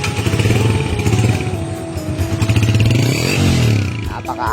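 A Honda TMX 125 Alpha motorcycle with a Yutaka power pipe idles and revs up close, its loud, raspy exhaust rising and falling, with someone talking over it.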